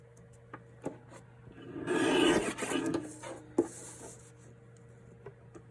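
Material for a Christmas loaded bag is trimmed close to its outline, giving a quiet, close rasping and rubbing sound that swells for a couple of seconds, surrounded by small taps and clicks in a quiet room.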